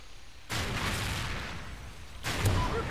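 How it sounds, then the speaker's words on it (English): In the game Call of Duty Ghosts, a Griffin killstreak attack strikes with two loud, rumbling blasts of explosive roar, one after the other. "Friendly Griffin inbound."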